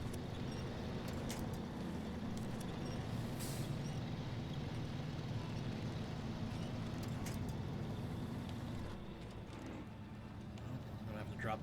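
Heavy truck crawling through rough terrain in SnowRunner, a steady low engine drone with hissing and clattering over it, continuous and fairly even, easing slightly in the last seconds.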